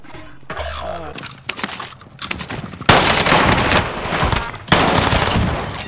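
Gunfire in Call of Duty Warzone on Rebirth Island, with several loud bursts of rapid automatic fire broken by short pauses, sharp and close.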